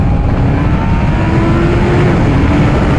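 Kawasaki Ninja ZX12R motorcycle engine revving loudly and steadily up close, a continuous deep roar with rising pitch throughout.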